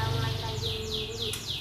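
A magpie robin (murai) songbird in a bird shop gives a few quick, descending high chirps in a short burst, faint under steady background noise.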